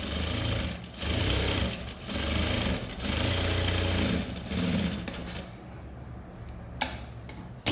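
A sewing machine stitching a blouse runs in steady bursts about a second long, pausing briefly between runs, then goes quiet with a few sharp clicks near the end.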